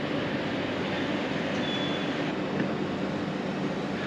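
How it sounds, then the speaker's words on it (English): A steady broadband rumble of an Austrian ÖBB Railjet passenger train rolling into a station, even and continuous, with a faint high whine briefly rising over it. "my train, which rolls in just 3 minutes later"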